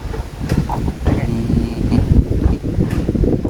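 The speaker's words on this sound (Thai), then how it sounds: "ลมมาแล้วพี่น้องเนาะ" Strong wind buffets and rumbles continuously across the microphone while a house roof is being laid, with someone talking over the gusty roar.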